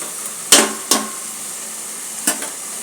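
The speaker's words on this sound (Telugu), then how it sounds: "మసాలా వేపడానికే టైం బాగా సరిపోతుంది." Masala spices for dum biryani fry in a pan with a soft, steady sizzle, broken by three sharp clanks of a spoon stirring against the metal.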